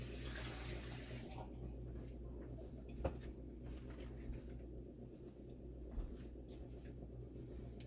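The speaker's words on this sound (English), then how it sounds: "Rinse the bowl out." Tap water runs steadily into a kitchen sink while a bowl is rinsed, with occasional soft knocks of the bowl against the basin under the continuous rushing flow.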